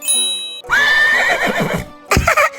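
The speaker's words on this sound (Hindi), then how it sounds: "हे जादुई पेंसिल इनको घोड़ा बना दो" A horse neighs loudly and close as a comedy magic-transformation effect, a long whinny followed by a shorter second burst after a brief pause.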